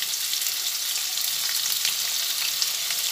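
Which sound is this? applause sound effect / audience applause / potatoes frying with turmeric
potatoes frying with turmeric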